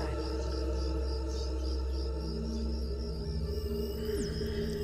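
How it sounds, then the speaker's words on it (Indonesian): Crickets chirp at night in a steady, continuous drone of high chirping, with no voices. "Hanya terdengar suara-suara jangkrik dan suara khas keheningan malam"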